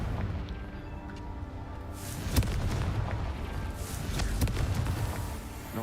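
Fiery Confringo spell blasts in the video game Hogwarts Legacy, a couple of dull booming impacts over a steady rumbling game soundscape, moderately loud with no talking.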